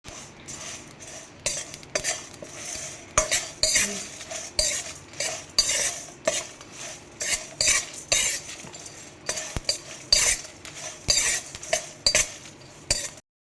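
Cinnamon, cloves, Byadgi chillies and curry leaves frying on low flame for paneer pepper dry, with repeated scraping and clinking of a metal spoon against the pan over a faint sizzle, in irregular bursts.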